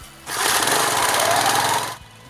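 An old lawnmower motor coupled through an old angle grinder to drive a water pump starts up into a loud, steady, rapid mechanical rattling drone for about two seconds, then cuts off.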